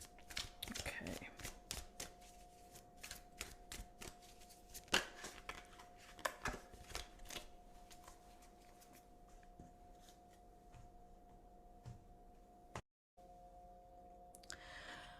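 Oracle cards are shuffled by hand at close range, making soft repeated riffling slaps and flicks in irregular bursts over quiet room tone.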